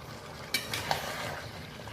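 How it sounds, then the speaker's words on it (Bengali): A spoon stirs chicken do pyaza in an uncovered cooking pot, with a couple of brief scrapes over a soft, steady sizzle. "তো আমি ঢাকনাটা খুলে দিয়ে মাঝখানে একবার এই যে দেখুন নেড়ে নিচ্ছি"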